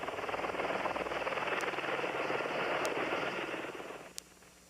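A Mi-28 Havoc attack helicopter roars close by with dense, fast rotor chopping and a loud turbine hum that holds steady, then drops off sharply near the end.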